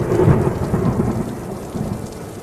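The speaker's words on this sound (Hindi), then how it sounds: "इस बार बारिश इतनी तेज बरसी कि चारों ओर दरिया सा बहने लगता है।" A heavy downpour roars steadily with deep rumbling thunder rolling beneath it, loud and continuous throughout with no voices.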